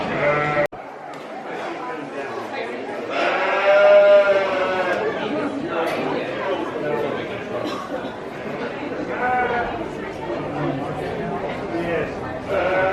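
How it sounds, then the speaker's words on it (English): Sheep and goats bleat repeatedly in a breed barn at a sheep and wool festival, several animals calling close by, with a person talking now and then among them. "I'm just in one of the breed barns with the sheep and the goats"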